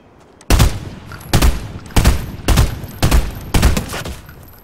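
Six heavy gunshot bursts in Fortnite on PC, loud and evenly spaced about half a second apart, each with a sharp crack and a brief decaying tail, with no talking.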